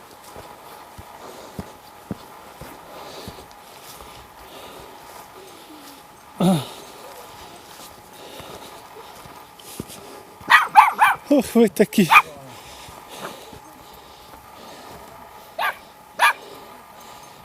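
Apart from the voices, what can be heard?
dogs barking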